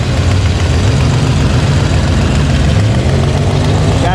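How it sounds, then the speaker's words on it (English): A turbocharged Foxbody Mustang V8 idles loud and close with a steady, rough low rumble, an exhaust leak and timing locked at 10 degrees adding a ragged, ticking edge throughout. "You can really hear it now, locked at 10 degrees."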